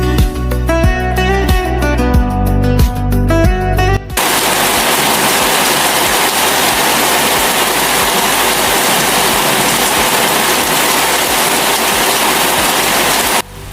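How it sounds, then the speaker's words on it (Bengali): Heavy rain falls outdoors as a loud, steady hiss for about ten seconds. Before it, a few seconds of music play and then cut off abruptly. "এই বৃষ্টিটা হওয়াতে পুরো পরিবেশটাই যেন ঠান্ডা হয়ে গেল।"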